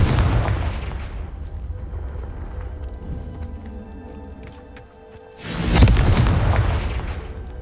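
Confringo blasting spell explosions in Hogwarts Legacy on PS5: a loud booming blast opens and rumbles away, then a second strong burst erupts near the end and trails off.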